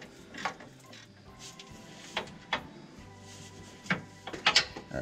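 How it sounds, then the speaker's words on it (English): Wrench tightening the 18 mm bolts on Mopar front tow hooks on a 2013-2022 Ram 1500, a few sharp metallic clicks and clanks scattered over a low background hum, close. "We're gonna get the top bolts tightened up."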